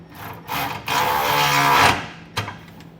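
Tightening a bolt with a 1/2 inch socket while installing an underbed gooseneck trailer hitch on a 2023 Chevrolet Silverado: a loud buzzing whir from a power tool in two long bursts, then a short final burst.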